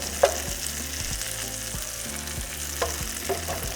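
Bacon, peppers and onions frying in oil, a close, steady sizzle broken by a few stirring knocks and scrapes.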